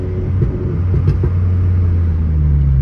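A newly bought turbocharged car's engine holds a steady low drone close by, with a few brief crackling exhaust pops early on and no voices.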